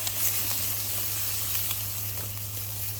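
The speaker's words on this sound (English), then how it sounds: "we got the bacon sizzling on the pan" Bacon sizzles in a frying pan outdoors at a cold campsite, a steady close crackling hiss with scattered pops over a constant low hum.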